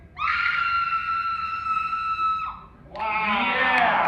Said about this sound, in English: she has a very distinctive scream